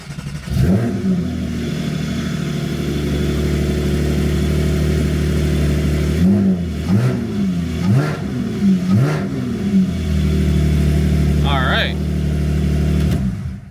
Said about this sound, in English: start the car briefly just to see that the tach